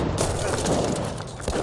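Massed cannon and musket fire from a battle in the Age of Empires III strategy game, a dense, loud rolling barrage of overlapping booms and cracks that never lets up.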